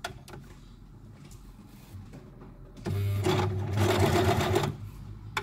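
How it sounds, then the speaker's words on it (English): A sewing machine stitches down the side seams of a Valentine outfit at a 1 centimetre seam allowance. Quiet handling comes first, then the motor starts and runs in a loud, steady close whir for about two seconds before stopping. "I'm just going to sew all the way down the side seams"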